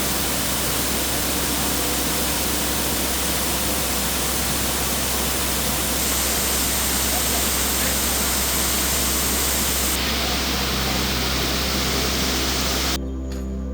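Continuous dense roar of a waterfall at Canaima, Venezuela, loud and close with no letup, cutting off abruptly at the end.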